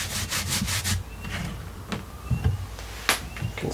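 Beeswax is rubbed by hand into a wooden piece on a workshop bench, giving close, soft scrubbing strokes in short bursts with brief pauses and no speech.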